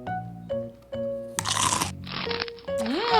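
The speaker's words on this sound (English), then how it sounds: "she saw a deer munching on an apple" A cartoon sound effect of a deer munching an apple: crisp crunching bursts follow some tonal musical notes, then a rising whistle-like tone at the end.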